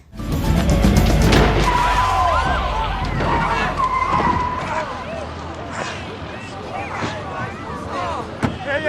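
A car strikes a running man in a film scene: a loud burst of engine, skidding and a crashing slam, with voices and raised shouts mixed through the commotion.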